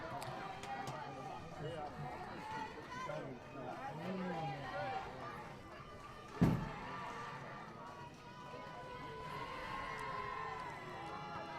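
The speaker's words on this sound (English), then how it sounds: "Teammates cheering on Kelly." Softball teammates cheering on a batter during a 5A state tournament game, a crowd's cheering and chatter running throughout, with a sharp slam or clap near the middle.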